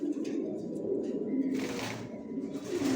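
Several pigeons in a loft coo in low, throaty repeated calls, overlapping and close, with a brief rush of brighter rustling noise partway through and no clear talking.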